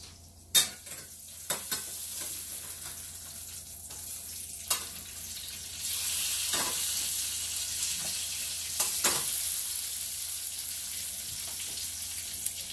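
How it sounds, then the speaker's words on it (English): Pan sausage cooks in a frying pan, a steady close sizzle that swells louder partway through, with scattered utensil clicks and scrapes and no talking. "I'm cooking up some pan sausage and some cheese grits and eggs."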